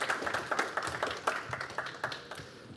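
Light, scattered clapping from a small crowd at the DConf conference, fairly faint and distant, with no voices over it.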